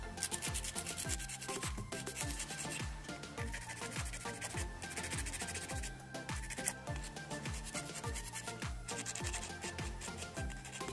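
An acrylic nail tip is filed to even its edge, giving a steady, close rubbing rasp that runs throughout, with rhythmic strokes over a constant background.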